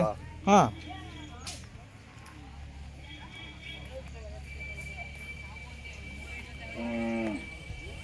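A few calves and cattle moo, one short low call near the start and a longer one later, amid outdoor fair ambience and people talking.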